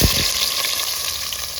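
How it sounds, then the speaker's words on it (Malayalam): Sliced onion drops into hot oil where mustard seeds have already popped, for a squid roast: a sharp initial splash, then a loud, steady, close sizzle that holds throughout. "ആദ്യം നമുക്ക് സവോള ഇട്ട് കൊടുക്കാം."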